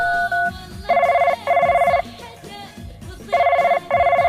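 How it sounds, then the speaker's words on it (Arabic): A telephone rings in repeated bursts of electronic warbling, two rings, a pause, then two more, loud and close over a faint background. "احسن شي اقوم اخابر ابو غايب"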